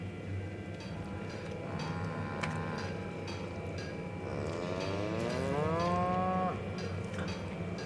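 Woolly cows in The Outer Worlds video game moo in drawn-out, wavering calls over a steady game ambience, with faint ticking in the background.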